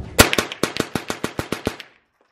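A .22 gun fitted with a fast trigger fires a rapid string of about ten sharp, loud cracks in even quick succession outdoors, then stops abruptly into silence.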